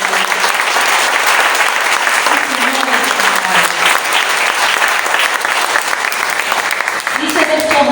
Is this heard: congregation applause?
yes